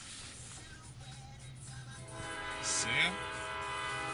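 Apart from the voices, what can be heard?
train passing by at a crossing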